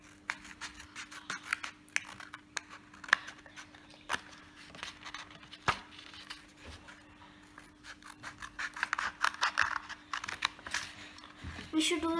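Scissors cutting paper or fabric for a handmade pencil case, a series of quiet snips and rustling scrapes, sparse at first and then quicker toward the end, close and fairly faint.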